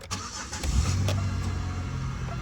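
A 2001 Buick Century engine cranks briefly, then catches and settles into a steady low idle, loud and close, with no talking.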